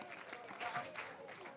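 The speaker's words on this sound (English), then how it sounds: "Tani Mumu, the crowd applause, and he deserves it, Naomi." Crowd applause at a U23 men's softball international between New Zealand and Australia, steady broadband clapping spread across the stands at moderate level, continuous throughout with some crowd noise mixed in.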